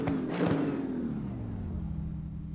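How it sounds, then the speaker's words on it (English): A Mercedes-AMG engine in a racing game fades after a brief revving burst and falls to a quieter, low, descending drone, heard faintly with no talk. "Yeah, you gotta love the sound of the AMG."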